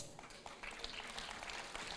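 An indoor audience applauding together, a faint, distant, steady wash of many hands clapping that holds evenly for about two seconds with no voices over it.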